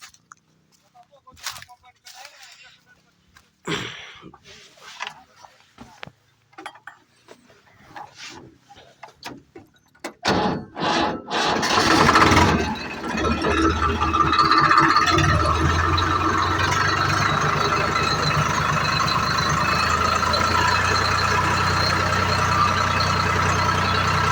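A tractor engine with a trolley hitched starts after scattered clatter and light sounds, then runs loud and steady with a deep rumble for the rest of the clip.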